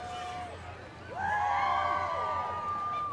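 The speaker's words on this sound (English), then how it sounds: "Lots of cheers from the crowd for Sauk County President." A crowd cheering and whooping at the Baraboo Big Top Parade, starting faint and then swelling into loud, sustained shouts and whistles that carry on steadily to the end.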